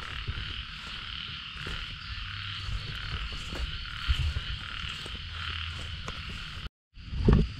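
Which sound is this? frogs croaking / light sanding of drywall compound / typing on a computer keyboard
frogs croaking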